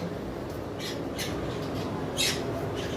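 Lovebirds give a few short, scratchy squawks at irregular intervals over a low background hum, with the loudest burst near the end.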